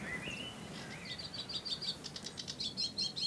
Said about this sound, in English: Sedge warbler.